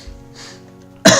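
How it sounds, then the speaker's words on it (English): A single sharp cough bursts out at the end after near silence, loud and close. "you're gonna probably hear me cough a little more than yesterday today"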